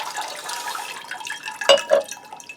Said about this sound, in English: I've poured a nice lot of water through, I've soaked everything and then continued to rinse